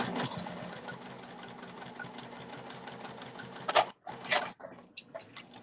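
A sewing machine quilts a Juno clutch wallet, running in a steady continuous whir for several seconds, then stopping with a few short clicks and handling noises near the end.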